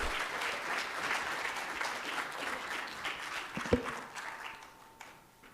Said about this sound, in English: One last round of applause for everyone, please.